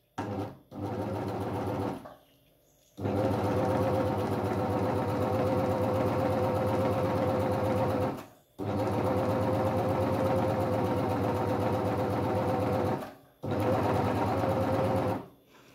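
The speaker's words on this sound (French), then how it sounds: "je démarre mon surjet" An overlock serger stitches a pocket onto a dress in several long, loud, steady runs of fast mechanical whirring, broken by brief stops, close to the microphone.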